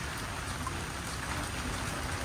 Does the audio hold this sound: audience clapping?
no